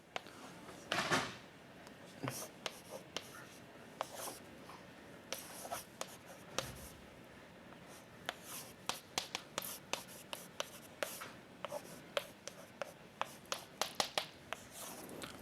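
Pen or chalk writing out a physics equation, a long run of quick scratchy strokes and taps in irregular bursts, close and fairly clear, with no talking over it.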